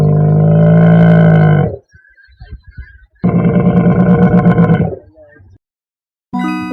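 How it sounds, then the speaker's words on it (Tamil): Hippopotamus calls: two long, loud, deep roaring grunts with a harsh, buzzing tone, separated by a short quiet gap with faint low snorts, then a third call starting at the end. "நீர் யானை"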